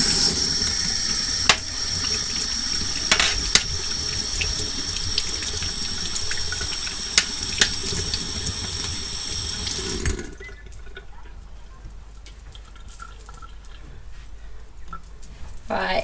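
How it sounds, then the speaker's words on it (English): Tap water runs hard into a kitchen sink while hands are washed, a loud steady rushing stream that stops abruptly partway through, followed by quiet handling sounds. "Let me wash my hands first."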